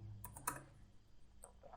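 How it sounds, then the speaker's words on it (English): Quiet typing on a computer keyboard sounds as a few scattered, faint clicking keystrokes, recorded close and alone. "so when I am typing this"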